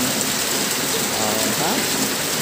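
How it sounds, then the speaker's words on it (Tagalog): Rain falls outdoors in a steady, loud, dense hiss and patter that stays constant throughout, close by, with no talk. "The God have given us rain, no?"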